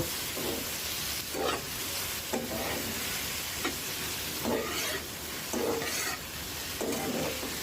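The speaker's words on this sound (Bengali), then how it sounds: "দিয়ে ভালো করে নেড়ে নিব" Taro stems with turmeric, salt and spices sizzle in a frying pan as a spoon scrapes through them in a regular rhythm. About six strokes cut through a steady, quiet hiss of frying.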